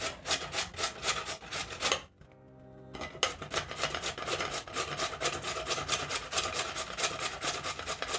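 Raw potatoes rasped quickly against a grater for hash browns, a steady rapid scraping rhythm that stops for about a second midway, then resumes; close and fairly loud, with no voices.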